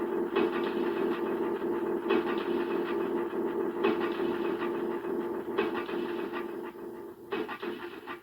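Simple delay effect on a synth patch running through a Percussa SSP processor with a Make Noise 0-Coast, a steady busy repeating texture that holds and then thins toward the end as it is turned down.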